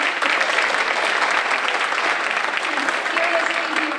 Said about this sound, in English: how about an extra round of applause for Wegmans for providing our refreshments tonight?